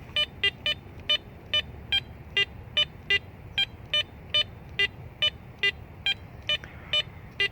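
Garrett Ace Apex metal detector sweeping over a dime buried two inches deep, giving a steady series of short, bright electronic beeps in an even rhythm, roughly two per second, over a faint background hiss.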